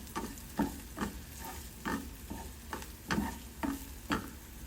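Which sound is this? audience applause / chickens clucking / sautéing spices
sautéing spices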